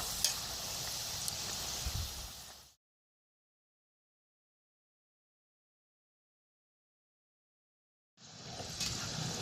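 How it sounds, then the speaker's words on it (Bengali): Rice flour jhinuk pitha frying in a pan gives a steady hissing sizzle that cuts out to complete silence for several seconds and then returns just as evenly near the end. "এবার আমি হালকা নেড়ে চেড়ে ভেজে নেব"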